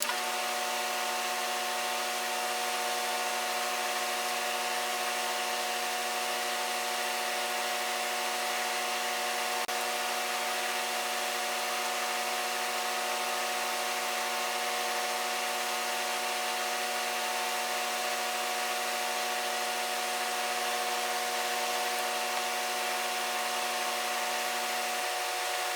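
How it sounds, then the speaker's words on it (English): A pen blank spins on a lathe while being sanded with micro mesh, giving a continuous steady whirring hum with a constant tone throughout and no talking. "Now we'll run it through the micro mesh."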